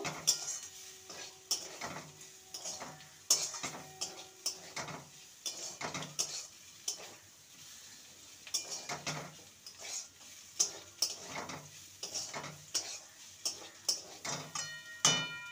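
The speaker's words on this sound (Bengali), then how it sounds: "এবারে আলুর সাথে ভালো করে মিশিয়ে নেব।" Potato filling for spring rolls being stirred and mixed in a pan, with repeated scraping clacks of a utensil against the pan over a faint sizzle, close and irregular, no talking.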